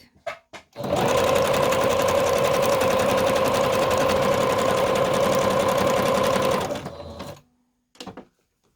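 A sewing machine runs a straight stitch on a fabric collage in one long continuous burst, a close, loud, even mechanical whir with a steady hum that starts abruptly and winds down, framed by a few brief clicks.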